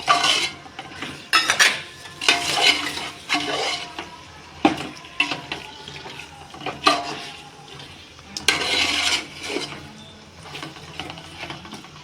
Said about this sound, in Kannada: ಆ್ಯಂಡ್ ಈ ಥರ ಫುಲ್ಲು ಮಿಕ್ಸ್ ಮಾಡ್ಕೋಬೇಕು